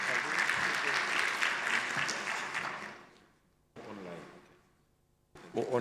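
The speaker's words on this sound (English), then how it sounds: "Let's give Tate Musue a big hand of applause again." Dense applause from a seated audience at an education department lekgotla runs strong for about three seconds, then tapers off, leaving brief stretches of speech and room sound.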